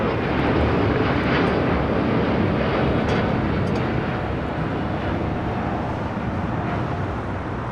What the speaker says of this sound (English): We got too many heavies taking off.